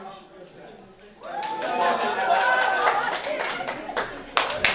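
Wedding guests at a Kazakh betashar celebration break into clapping partway through, a sustained round of applause rising over a host's voice and music, with sharp louder claps near the end.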